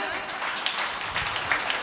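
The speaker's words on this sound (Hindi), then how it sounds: "एक बार जोरदार ताली बजाएं।" An audience at a Hindi kavi sammelan poetry recital breaks into steady, dense clapping that stays fairly even throughout, with a few slightly louder bursts near the end.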